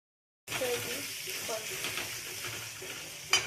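Spices such as garam masala, turmeric and chili powder being stirred in a hot frying pan for a curry, with a steady sizzle and scraping stirs close by, ending in a sharper clink near the end.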